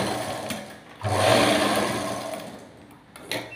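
Sewing machine stitching a petticoat, a close steady motor-driven whir that swells after a pause and runs for a few seconds before tapering, with no talking.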